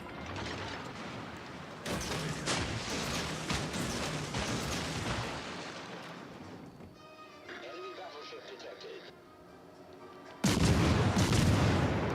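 Warship turrets fire in the naval combat game World of Warships: Legends, with dense booming salvos and mechanical clatter, a quieter stretch, then a final loud burst, while someone talks over the action.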